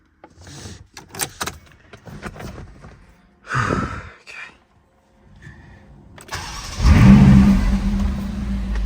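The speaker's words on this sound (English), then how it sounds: "thought it'd be a good idea to take it out for a quick test drive around the industrial estate" Ferrari California T pulling away on a quick test drive around an industrial estate, with short bursts of engine noise and door or mechanical clunks, then a loud, sustained engine roar building near the end.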